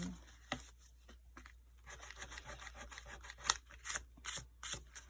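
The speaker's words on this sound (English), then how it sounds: "Just want to wipe up some of the excess glue." Excess glue is wiped off a sewing project with quick, close rubbing strokes, a soft irregular scuffing and swishing at low volume.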